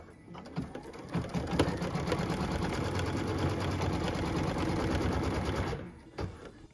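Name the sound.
sewing machine stitching placement line for tree skirt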